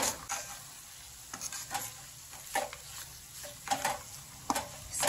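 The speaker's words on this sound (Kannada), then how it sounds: "ಗಟ್ಟಿ ಅನ್ಸಕ್ ಸ್ಟಾರ್ಟ್ ಆಗುತ್ತೆ, ಅವಾಗ ಕ್ಲೀನಾಗಿ ತಿರುಗಿಸ್ಕೊಳ್ತಾ ಇರಬೇಕು. ಇದೊಂದು 5 ನಿಮಿಷ ತಿರುಗಿಸಿದ್ರೆ ಸಾಕು." Spoon stirring a thick rose and dry-fruit sweet mixture in a pan, irregular scraping strokes with a faint sizzle underneath, close and moderately loud.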